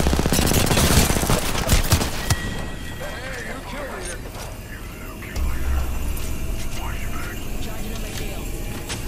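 Automatic gunfire in the battle royale game Apex Legends, dense bursts packed into the first two seconds, then scattered shots and game effects beneath people talking over the action.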